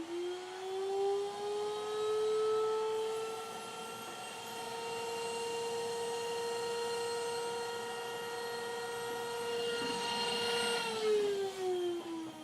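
A vacuum cleaner runs steadily with a continuous whining hum whose pitch holds level, then drops slightly near the end as it winds down, with no voices.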